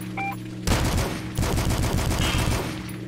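Rapid bursts of gunfire from enemy soldiers and a turret in the retro shooter Dusk, dense and loud, rattling continuously for about three seconds after a short electronic beep.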